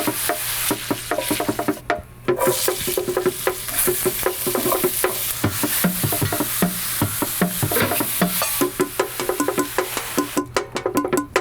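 Stir fry sizzles steadily in a hot skillet with coconut oil, a dense continuous crackle broken by scraping stirs and clinks of the utensil against the pan, close and loud throughout with no talking.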